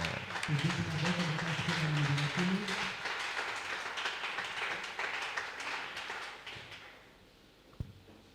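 A church congregation applauds and cheers together, a broad steady wash of clapping that fades out after several seconds, ending with a single sharp knock.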